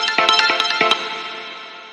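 A synth plays a rapid run of triplet chord stabs in a driving rhythm, then lets the last chord ring out and decay, heard alone with no voices.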